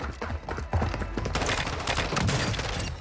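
Rapid rifle fire from an M16 in a video game, a dense run of sharp overlapping shots that starts partway through and stays loud to the end.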